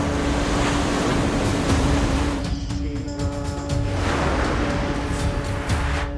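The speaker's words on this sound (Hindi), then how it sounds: "समुद्र में उफनती लहरों के बीच" Sea waves surge along the shore at Bharuch, Gujarat, a steady loud wash of surf with rolling swells and a constant low hum beneath, no voices.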